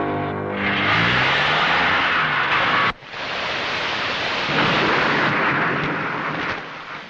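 Heavy rain pours down in a loud, dense, steady roar that briefly dips midway, with a low rumble of thunder beneath it.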